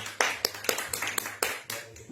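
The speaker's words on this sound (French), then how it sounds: "que des applaudissements pour nos pasteurs" Sparse, scattered clapping at a French-speaking church gathering, honoring the pastors: a handful of distinct, separated hand claps in an uneven rhythm, fairly quiet and close.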